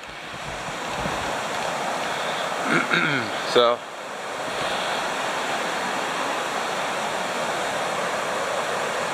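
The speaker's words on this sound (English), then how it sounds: "a little shot of the river behind me" Constant broadband rush of a flowing river fills the scene, with a brief spoken word partway through.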